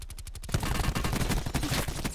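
A rapid string of close gunshots crackles in a Call of Duty Blackout battle royale match, starting with a few quick distinct shots and then a dense, sustained volley of fire.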